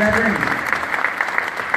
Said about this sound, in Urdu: بھائی اپنے لیے تالیاں بجائیں آپ سب لوگ